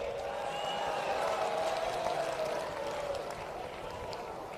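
A large outdoor crowd claps steadily at a Bharat Jodo Yatra political rally in Panipat. The clapping is a constant, wash-like roar that fades slightly toward the end, with a faint voice underneath.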